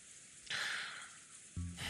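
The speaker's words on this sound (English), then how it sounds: "The silence between the two was filled with the sound of the wind and rain." Wind and rain ambience in the Umineko When They Cry visual novel game, a soft hiss of rain that swells in two short bursts over a quiet background, faint and with no voices.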